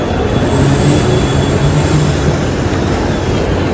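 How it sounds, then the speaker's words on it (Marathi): A train arriving at a station rumbles steadily with a low, continuous roar and faint high whine, loud and close throughout, with no voices. "आपली ट्रेन आलेली आहे"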